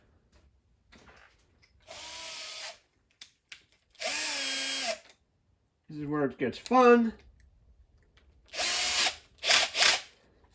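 Power drill boring holes into wood while fitting a final shelf, heard as several short whirring bursts that spin up and stop, with a person talking in between.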